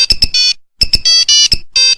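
Telephone ringing from a hotel room, a repeating electronic ringtone of bright chirps followed by sustained buzzy tones, two full cycles close and loud with no talking.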